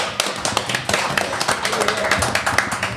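An audience at a live podcast event applauds, giving dense rapid clapping that is loud and close and continues for about three seconds.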